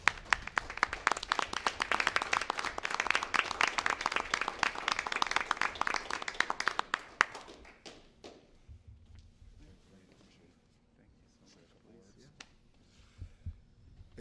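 Audience at a city council meeting giving a round of applause, dense rapid clapping for about seven seconds, then fading into quiet room noise with a few scattered sounds.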